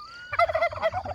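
Turkeys on a farm gobbling, a loud rapid warbling burst of throaty notes up close after a brief thin whistle, with no one talking.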